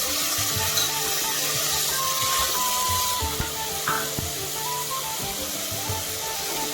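Tomatoes frying in a pan for dry fish curry with onion make a loud, continuous hissing sizzle, with faint clinks and a brief tonal squeak mid-way, no talking.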